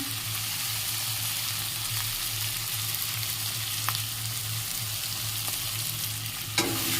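Egg curry masala sautés in a pan with a constant soft sizzle, broken by a few light clicks and scrapes of a stirring spoon. No one speaks.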